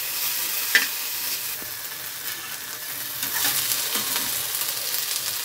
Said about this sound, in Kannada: ಬೆಳ್ಳುಳ್ಳಿ ಶುಂಠಿ ಪೇಸ್ಟು, ಕಟ್ ಮಾಡ್ಕೊಂಡಿರೋಂಥ ಕೊತ್ತಂಬರಿ ಹಾಕಿ ಒಂದ್ಸಲ ಮಿಕ್ಸ್ ಮಾಡಿ